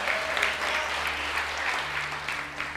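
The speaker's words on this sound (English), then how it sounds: "Round of applause, yeah, all right?" An audience applauds steadily throughout, a dense, even patter of many hands clapping at close to moderate distance with no talk over it.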